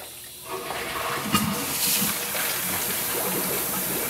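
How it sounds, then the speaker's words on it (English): Steady rush of water gushing through a vapor blasting cyclone's pump, continuous and fairly close, with a brief splash near the start and no voices. "Let's see the water coming in and going out."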